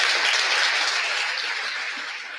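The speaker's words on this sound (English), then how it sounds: "Round of applause." Audience applause at a live marketing conference event, a dense, steady wash of many hands clapping that fills the whole stretch and fades slightly toward the end, with no talk over it.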